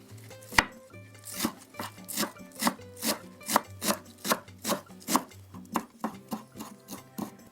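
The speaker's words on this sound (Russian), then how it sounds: "Мелко порежу пучок укропа и зеленого лука." A knife finely chops dill and green onion on a cutting board, in a steady rhythm of about two crisp strikes per second, close and clear.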